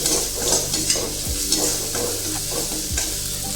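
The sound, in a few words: onion, ginger and garlic frying in a pan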